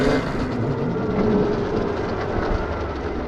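Fresh-built Yamaha YZ-E electric dirt bike riding in mode 1, a steady broadband whir and rumble with no engine pulses, continuous and fairly loud throughout.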